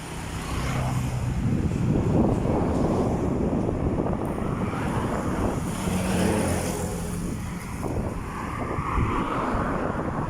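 Strong wind roars and buffets steadily outdoors in the countryside of Iloilo, a continuous rushing with low rumbling gusts across the microphone.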